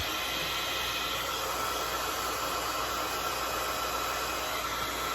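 A heat embossing tool blows a steady, loud hissing rush of hot air that continues unbroken throughout, with no talking.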